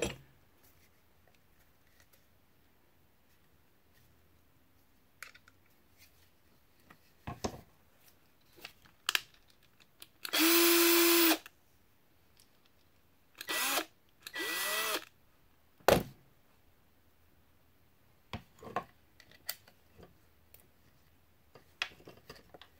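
Bursts of a power drill driving a screw into a custom leather sheath for a Bark River Squad Leader knife: one long steady whir, then two shorter runs and a few brief clicks and handling taps, with no talk.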